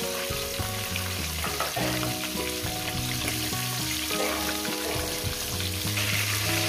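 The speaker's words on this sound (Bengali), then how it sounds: "মাছের মাথাগুলো এইভাবে আপনারা ভেজে নেবেন।" Rohu fish heads sizzle steadily in hot oil in a pan, a loud, continuous frying crackle with faint background tones running throughout.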